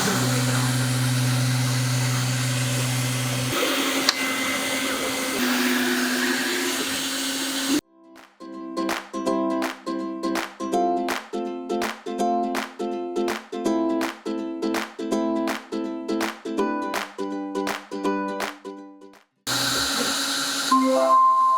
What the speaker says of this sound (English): go ahead and click start printing